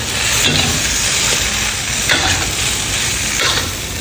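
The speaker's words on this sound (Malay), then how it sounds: "Kita masukkan toge, kemudian sayur kucai. Kemudian kita gaul lagi dia." Kuey teow noodles with bean sprouts and chives stir-fried in a hot pan, a loud, dense sizzle with a few sharp scraping strokes of the spatula, close up and without speech.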